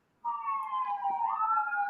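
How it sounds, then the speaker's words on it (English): A police siren wails outside a window, one continuous rising and falling tone at moderate distance with no talk over it. "you can hear sirens outside our window"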